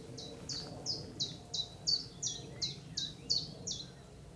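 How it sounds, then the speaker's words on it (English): A bird sings at the RSPB Pulborough Brooks reserve, repeating a run of about a dozen short, high, evenly spaced chirping notes. They sound fairly near and clear above a low, steady outdoor rumble. "What was that bird? What's that one called? Come on, sing again."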